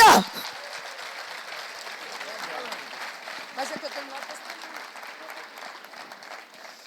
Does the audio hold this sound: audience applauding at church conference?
yes